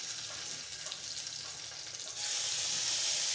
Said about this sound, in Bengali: আমি এখন দিয়ে দেবো সরিষার তেলটা দিয়ে দিচ্ছি, মাছটা ভেজে নেব